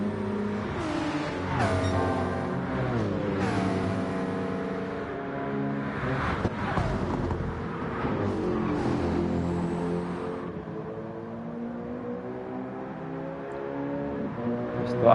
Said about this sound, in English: Just thought I'd take a moment to appreciate the sound of these GT3 cars making their way through the hills of Mount Panorama.